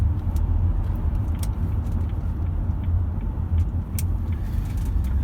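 A Jaguar XJ X300 saloon drives along, its low engine and road rumble steady and close throughout, with faint light clicks and rattles over the drone and no talk.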